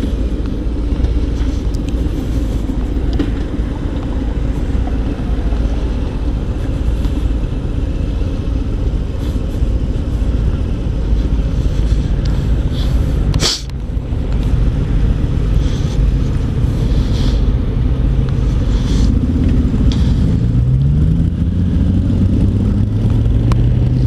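A 2018 Harley-Davidson Fat Bob motorcycle rumbles steadily on a test ride, its loud engine drone dominating, with wind noise and a rising rev near the end.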